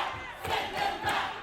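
A crowd at an anti-migration rally shouting together in rhythmic bursts, a chanting mass of voices heard from a distance at moderate volume.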